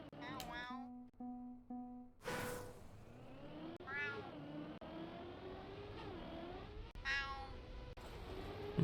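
Cats meow repeatedly, several drawn-out rising and falling cries spread across the stretch at close range, mixed with what may be a game engine sound and a voice in the background.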